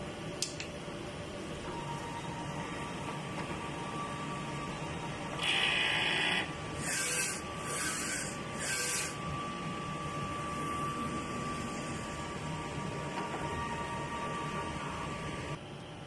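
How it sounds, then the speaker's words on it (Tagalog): Inkjet printer running a nozzle test after a head clean, a steady mechanical whir with a few short louder bursts of carriage and feed noise midway, no talk. "Nozzle test."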